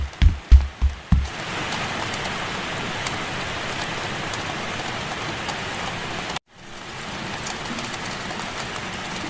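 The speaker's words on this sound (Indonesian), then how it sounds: "Loh, kok mendadak hujan sih?" Heavy rain pours steadily in the Sakura School Simulator game, a dense continuous hiss broken by a brief silent gap, with a few soft thumps at the very start.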